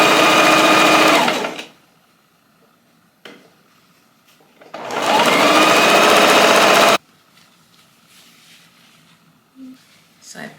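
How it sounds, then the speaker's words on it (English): A sewing machine stitches puffer jacket pieces together in two loud, fast bursts of close whirring, separated by a quiet pause, with small handling knocks and rustles afterward. "So we're going to sew these together first."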